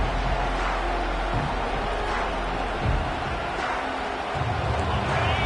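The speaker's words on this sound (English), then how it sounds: "This crowd bringing an ear-splitting welcome to their visitors." Stadium crowd at a South Carolina vs Clemson college football game, a steady dense roar filling the space continuously, loud and broad with no quiet gaps.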